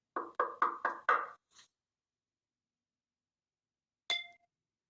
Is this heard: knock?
yes